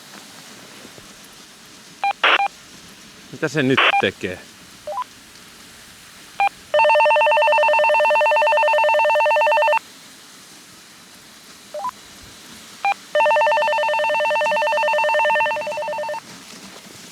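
A phone call placed on a handset: a short burst of keypad dialing beeps, then two long ringback tones separated by a pause, fairly loud and clear over quiet background noise.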